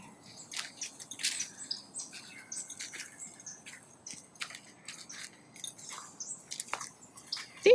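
A bobcat gives a run of short, high chirping calls in an outdoor enclosure. The chirps are fairly faint and irregularly spaced, with a louder one at the very end and no talking.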